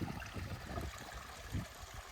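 Water babbling and trickling over rocks, a steady low gurgle with soft bubbling bursts, close by and continuous.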